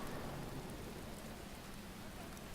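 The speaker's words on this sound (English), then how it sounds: "See the raindrops splashing on the ground?" Rain falls and splashes on the ground in the Watch Dogs video game, a steady, soft, wide hiss with no speech.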